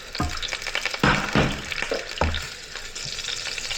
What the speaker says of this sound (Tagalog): Prituho natin saglit.